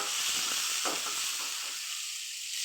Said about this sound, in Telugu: 2 పచ్చిమిర్చి ఎర్రగడ్డ వేసి బాగా ఫ్రై చేసుకోవాలి.